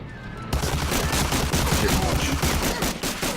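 Gunfire in the World War II video game Medal of Honor Allied Assault, a sudden loud onset after a short quiet moment, then a dense rapid barrage of rattling shots up close.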